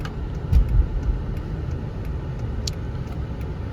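A 2006 Lexus LS430 cruising at steady speed, its low road rumble and engine hum continuous and even from inside the cabin, with a brief louder bump near the start.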